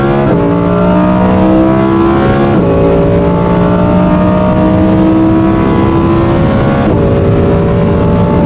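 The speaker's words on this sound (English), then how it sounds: "I accelerated the Performante on the Autobahn." Lamborghini Huracán Performante and Huracán LP610-4 Avio accelerating hard on the Autobahn: a loud, close engine roar climbing steadily in pitch through the gears, with two sharp drops at upshifts before revving up again.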